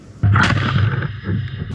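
A single sharp shot from a flamethrower cracks loudly, followed by a booming rumble and reverberating echo that fades out.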